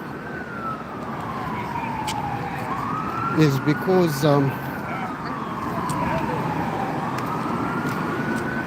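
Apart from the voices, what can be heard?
ambulance sirens near a hospital in New York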